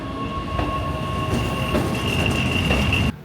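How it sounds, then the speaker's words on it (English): A train running on the line toward the French border near Mont Blanc, heard as a steady, fairly loud rolling rumble with sustained high wheel squeal and tonal whine, ending abruptly just after three seconds. "You have the train that goes to the border with France towards Mont Blanc."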